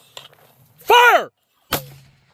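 A 60mm mortar round detonates downrange at a military range, a loud booming blast with a rolling tail, followed by a sharp second report and a fading echo.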